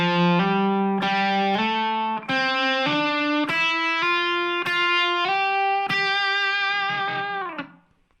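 Electric guitar plays the intro lead line of Crosby, Stills, Nash & Young's "Ohio", a series of sustained picked notes stepping upward with vibrato on the last, clean and up close with no talking.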